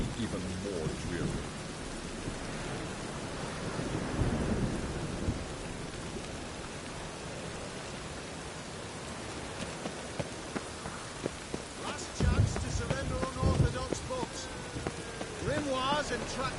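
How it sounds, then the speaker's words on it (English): Steady rain hisses over a dreary city in the video game Witcher 3, with dull thunder rumbles and a few sharper knocks later on, all fairly close and continuous. "Rain makes the city even more dreary."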